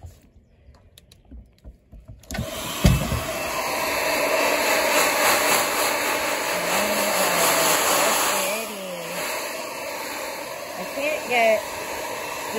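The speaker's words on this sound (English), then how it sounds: "Here, we're gonna blow dry you, okay?" Blow dryer running on a freshly bathed buck goat's fur, starting with a loud click and steady whirring roar that holds for several seconds, then drops as the goat bleats and a voice speaks nearby.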